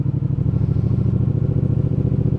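A motorcycle engine chugs nearby at a steady, rhythmic idle as it is shifted into gear, with a faint clatter under the pulsing exhaust.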